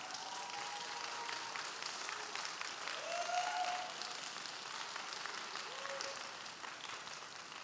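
A church youth-service congregation gives a steady, dense round of applause welcoming an engaged couple, heard from within the hall, with a faint voice or tone rising briefly midway.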